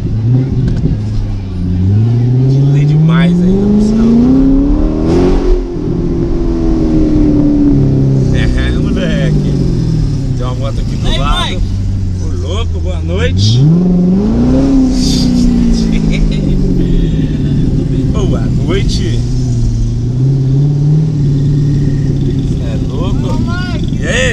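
Chevrolet Corvette cruising a beach avenue, its engine revving and rising in pitch through repeated accelerations, loud and close, with people talking over it throughout.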